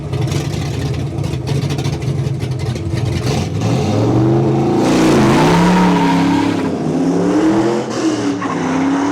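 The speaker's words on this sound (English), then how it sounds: "Loads of wheel spin." A street car launching at a Santa Pod drag racing event with heavy wheel spin, a loud roaring engine and screeching tires that rise and waver in pitch as it pulls away, close and intense.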